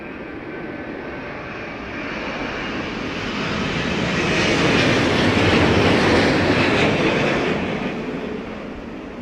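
An airplane lands at London Heathrow during Storm Darragh, its loud, broad engine and wind roar swelling to a peak mid-clip and then easing, heard at a distance with no talk.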